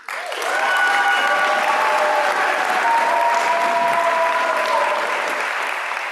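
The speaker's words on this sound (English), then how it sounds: "Will you please join me in applause for our Doctor of Philosophy graduates?" Sustained applause from a crowd at a university graduation ceremony for Doctor of Philosophy graduates, a dense, even clapping that swells quickly and holds steady for several seconds, with faint voices or cheers mixed in.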